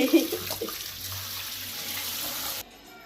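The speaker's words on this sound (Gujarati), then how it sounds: "આમ કરી ફુવારામાં વેફરને નવડાવી દઈએ." Water from a shower head sprays steadily onto potato wafers being rinsed, a continuous hissing splash that stops abruptly near the end.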